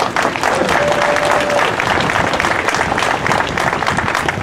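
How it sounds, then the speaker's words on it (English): A crowd at a Vietnam War Veterans Day ceremony breaks into a round of applause, dense and loud clapping that holds steady for several seconds. "Give him a round of applause."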